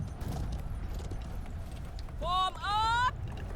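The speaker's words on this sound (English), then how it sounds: "Jump off the wall with your horse" Horse hooves thud at a gallop across a castle siege in the video game Conqueror's Blade. The low, rumbling hoofbeats run steadily beneath battle noise, and a voice talks briefly near the end.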